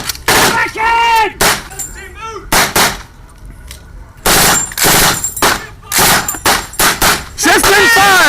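Loud, close bursts of machine gun fire in rapid clusters separated by short pauses, with shouting voices in between.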